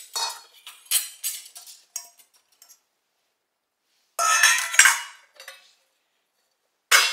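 Ceramic bowls and metal cutlery are lifted from a Bosch dishwasher, giving short separate clinks and clatters in quick bursts, separated by pauses of near silence.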